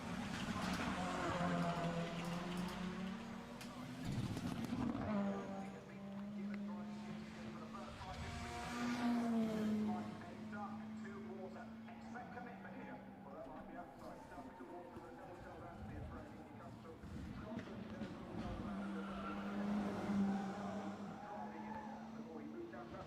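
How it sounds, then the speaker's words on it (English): A 1990s Ford Escort rally car engine revs and drones up and down through the gears, with tire skids and gravel noise, heard from a distance for a sustained stretch. "a Ford Escort rally car from the 90s. These things are freaking cool, man. And listen, just listen."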